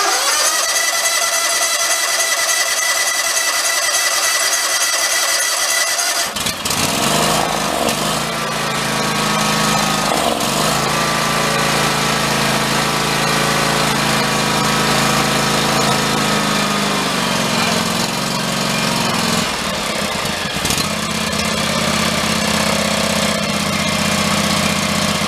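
A John Deere riding mower with no fuel in it cranks, then its small engine catches and runs loud and near, revving and dipping unevenly with mechanical rattling, and briefly stumbles near the end.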